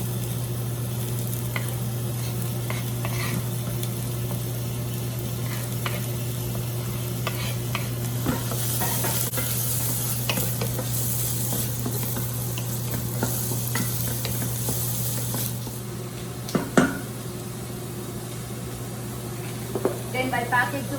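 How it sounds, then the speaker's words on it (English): Garlic sautés in a pan with a steady, hissing sizzle under a low hum, and repeated stirring scrapes and clinks grow busier partway through, ending in a few sharper knocks. "saute it, and then next is gonna be the garlic"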